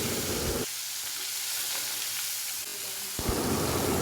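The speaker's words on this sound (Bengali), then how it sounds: "একে একে সবগুলো মাছের পিস ভেজে নিয়েছি।" Pomfret fish pieces frying in a pan of oil give a steady, loud hiss throughout. Louder crackling bursts open and close the stretch, with a calmer simmer in between.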